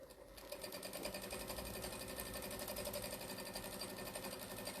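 A sewing machine runs a rough quarter-inch seam on fabric strips for a jelly-roll tote bag, a steady rapid rhythmic whir and tapping, continuous and close, with no talking.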